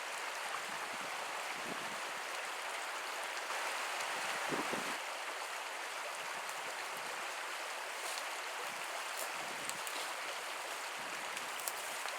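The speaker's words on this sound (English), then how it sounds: "These little streams like that" A small stream flows in a steady, continuous wash of water, heard alone outdoors at a fishing spot, with faint scattered knocks and no talk.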